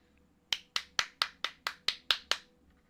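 Nine sharp hand claps in a fairly even rhythm ring out close and crisp, each with a short decay, against a quiet room with no talking.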